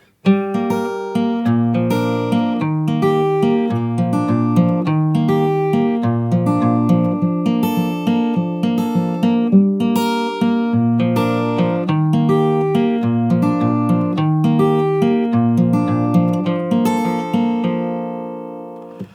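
An acoustic guitar plays a lively picked intro at full speed, bright plucked notes and ringing strums flowing continuously for about twenty seconds, with no talking.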